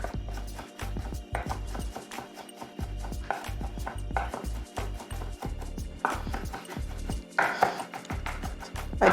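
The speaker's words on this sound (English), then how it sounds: "We're just gonna give it a rough mince." A knife rough-mincing garlic on a cutting board, with rapid, close, irregular chopping taps that continue steadily throughout.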